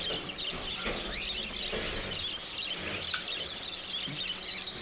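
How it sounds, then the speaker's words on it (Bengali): Caged cockatiels and budgerigars at the Mirpur 1 bird market on a rainy morning chirp in a busy, overlapping chorus of short calls over steady background noise. "পাখিগুলো কিচির মিচির মশলা দিলে খুব সুন্দর।"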